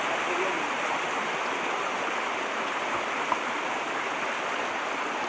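Water flows at Sunnappugadda waterfall as a steady, dense rush of cascading water, loud and continuous throughout.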